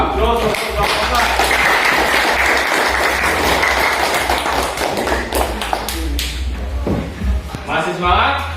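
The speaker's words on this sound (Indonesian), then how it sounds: "Aplaus untuk Bapak." An audience in a teacher-training classroom session applauds after a presentation, steady dense clapping that swells for several seconds, then thins out as a voice begins speaking near the end.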